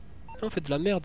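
A phone ringtone inside Grand Theft Auto V Online plays a brief run of bright, melodic electronic tones, with a voice talking over it.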